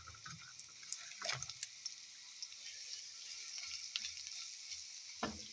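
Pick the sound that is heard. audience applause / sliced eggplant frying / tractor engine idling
sliced eggplant frying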